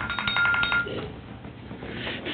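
A new phone rings during a county board of supervisors meeting, a bright repeating ringtone sounding for about a second before it cuts off and faint room noise remains.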